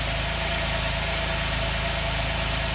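A Porsche 997 Targa 4S engine idles steadily after a cold start, a continuous low, even rumble with a faint rhythmic pulse and no voices, close and constant throughout.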